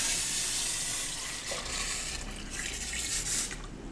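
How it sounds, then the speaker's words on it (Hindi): Water poured into a cooking pot for desi chicken pulao, a steady splashing, trickling stream that runs near and continuous for several seconds with no talk. "तो ये मैं इसमें पानी डाल रही हूँ।"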